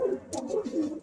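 A racing pigeon coos in a soft, rolling series of low throaty calls, close and fairly quiet, repeating about four times within a second.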